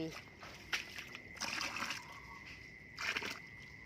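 Fermented liquid fertilizer made from food scraps is scooped and poured into water for growing Azolla microphylla, giving a few close sloshing splashes and trickles spread through the clip, with talk over parts of it.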